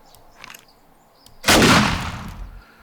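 A single loud shotgun blast from a duckbill-modded shotgun in the game 7 Days to Die, a sharp broadband crack that decays over about a second after a few faint clicks.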